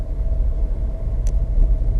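A VW Move Up car engine idles and creeps along in slow city traffic, a steady low rumble with a brief higher whine near the middle, close and continuous with no talking.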